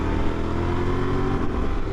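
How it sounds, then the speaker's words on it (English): A 2024 Honda Transalp motorcycle engine revving, a loud, steady, close engine drone that holds evenly for about two seconds without talk. "you really got to rev this bike up"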